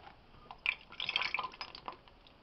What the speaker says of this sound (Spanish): Vamos a colocar la grasa entre agua para eliminar las impurezas.